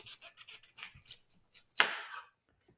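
A knife trims a cauliflower for roasting cauliflower steaks, with a quick run of soft, close cutting scrapes followed by one sharper crunching snap as a piece breaks off, then quiet.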